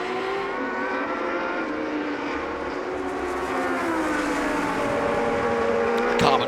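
Historic 1966–1985 Formula One cars, including a 1982 carbon-monocoque car, race at the Sonoma Speed Festival, with a sustained high engine whine that shifts pitch as the cars pass, and a voice commentating over it.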